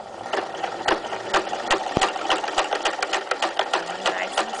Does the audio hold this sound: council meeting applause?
no